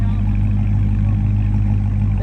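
Steady low rumble of a Dodge Hellcat idling on its previous aftermarket exhaust, a continuous deep drone held at an even level throughout.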